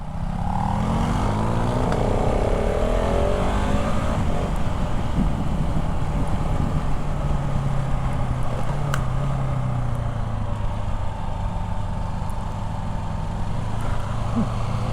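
Supermoto motorcycle, a GasGas 700 or Hypermotard 698 Mono single-cylinder, pulling through a hairpin in second gear on a twisty road: loud, close, steady engine drone with pitch sweeping down then holding, over wind noise, no talking.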